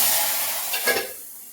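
A short loud sizzle and hiss flares up as a little cooked dal hits a hot ghee tempering, then fades quickly.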